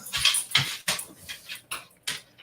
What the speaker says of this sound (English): The dog's getting restless.